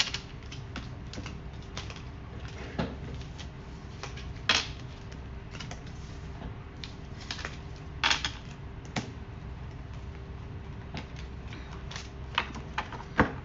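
Tarot cards being shuffled and drawn, soft riffling and light taps with a few sharper clicks and flicks, close and fairly quiet, no voices.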